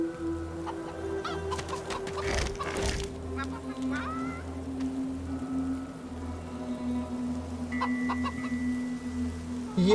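Chickens in a video game chicken coop cluck steadily over a constant low hum, with a brief burst of louder noise partway through and intermittent chirpy calls.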